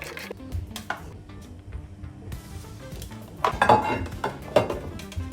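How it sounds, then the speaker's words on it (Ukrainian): Knife slicing zucchini into slices on a cutting board in a kitchen, a series of irregular crisp cuts and board knocks with small clinks, moderately close, with no talking. "Змінюю лезо та нарізаю кабачки слайсами."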